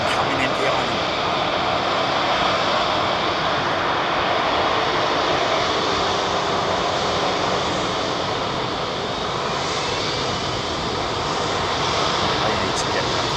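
A Boeing jet airliner comes in at London Heathrow Airport, a loud, steady, broadband engine roar filling the whole stretch with little change, heard close by.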